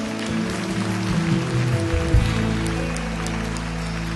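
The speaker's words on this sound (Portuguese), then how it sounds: "Vamos aplaudir o Rei da Glória" A church congregation applauding during a worship service, steady dense clapping that fills the space without a break, loud and close, with no voices rising above it.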